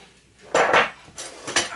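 Heated metal baking pans clank and scrape as they are pulled out of an oven one after another, giving two short bursts of metallic clatter, close and fairly loud, with no talking.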